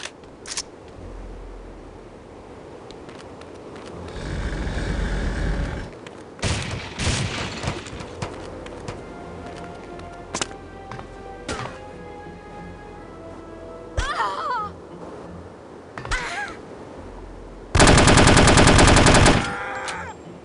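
Carbine gunfire in the first No One Lives Forever shooter game: several loud automatic bursts, the longest and heaviest near the end, with single shots and game effects between them.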